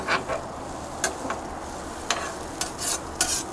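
Onions fry on a Vevor 22-inch flat top griddle, a soft steady sizzle broken by several sharp spatula scrapes and taps at uneven intervals.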